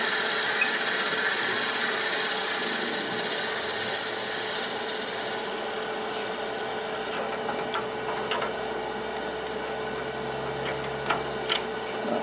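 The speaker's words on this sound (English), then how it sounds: "I'm drilling a 3/8 inch hole in the center of this one." A drill boring a 3/8 inch hole half an inch deep into the center of a wooden lattice box top gives a steady, continuous motor whine with a low hum throughout, with a few faint clicks near the end.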